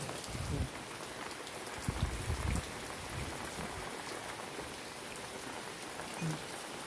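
A heavy downpour hammers down on a farm in light wind, a loud continuous rush of rain with a few dull thumps of drops striking nearby surfaces.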